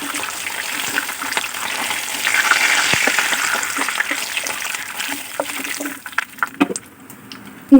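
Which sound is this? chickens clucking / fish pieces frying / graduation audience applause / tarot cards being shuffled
fish pieces frying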